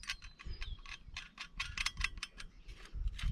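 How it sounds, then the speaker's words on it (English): A wrench ratchets down a nut on a red head concrete anchor while framing a pavilion, giving a quick series of crisp, rhythmic clicks that come close and fairly quiet, with no voices. "then you just take a wrench or tighten it up"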